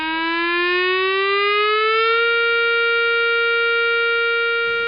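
COMAR all-clear siren at the Fawley site, a loud steady electronic tone that rises slowly in pitch for about two seconds, then holds level and cuts off abruptly.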